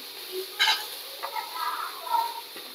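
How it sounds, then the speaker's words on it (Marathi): Ginger and garlic pieces roast in a pan, giving a faint, dry sizzle with a few scraping stirs and light clinks spread across the moment. "आता ह्याच्यातच मी हे आलं आणि लसणाचे तुकडे पण भाजून घेणार आहे"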